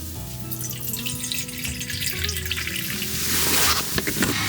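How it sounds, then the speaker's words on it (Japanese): Food simmering in a pot on a wood stove at a snowy winter campsite, a steady bubbling hiss with faint clinks that grows louder and more vigorous toward the end, close and continuous with no talk. "じゃあこれを茹でます。 茹でる、煮込みます。"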